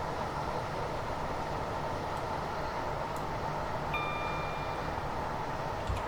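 A Class 455 electric train runs on the South West Mainline in Train Simulator Classic, giving a steady rolling rumble with wheel noise, a faint whine and a brief high electric tone in the middle, no speech.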